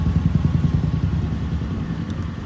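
A vehicle engine rumbles steadily while driving through Kohima at night during a carnival, a loud, close, low drone with a pulsing rhythm that fades slightly toward the end.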